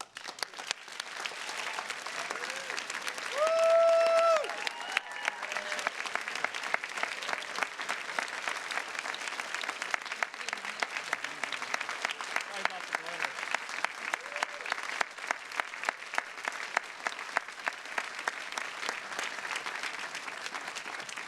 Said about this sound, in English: Please join me for one more round of applause congratulating the 2024 Harvard Medalists.